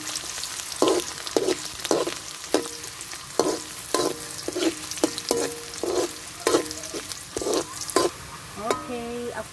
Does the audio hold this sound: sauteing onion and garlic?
yes